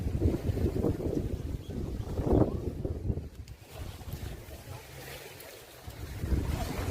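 Wind and ocean surf roll steadily at a beach in Melbourne, Australia, a continuous low rumble with gusting wind buffeting the microphone throughout.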